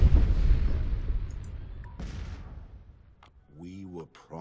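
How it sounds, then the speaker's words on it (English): Heavy booming blasts from bombs dropped on a colony in the Master of Orion space strategy game, a dense rumbling explosion fading out, then a sharp crack, followed by a synthetic voice-like tone near the end. "Drop these bombs."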